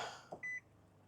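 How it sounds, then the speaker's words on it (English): A single short electronic startup chime from a 2026 Nissan Frontier pickup, clear and high-pitched, sounding once against a quiet background. "Let me turn her on. Of course, you're gonna hear the beep beep beep."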